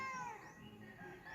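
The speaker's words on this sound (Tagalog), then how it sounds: "Ayan yung pusa. Napakaingay niyan oh." A cat meows loudly and close by in one drawn-out, insistent call.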